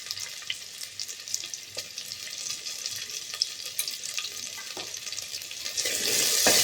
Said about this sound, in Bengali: দিয়ে দিলাম আলুটাকে একটু নাড়াচাড়া করে নেব